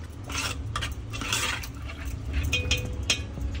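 A spoon stirs a semolina batter mixed with turmeric in a bowl, making close, quick scraping and clinking strokes that come in uneven bursts.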